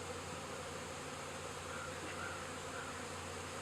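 A dense, steady buzz of many honeybees at a hive hums continuously up close, an unbroken droning swarm with no other sounds.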